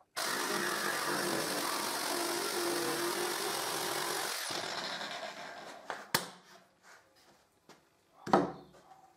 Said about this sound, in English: And I cut with my jigsaw.